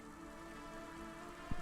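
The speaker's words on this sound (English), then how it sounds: "Don't let all the rain get you down." Steady, faint rainfall in the cyberpunk city of the Cloudpunk game, a continuous soft patter with a low hum underneath and a brief thump near the end.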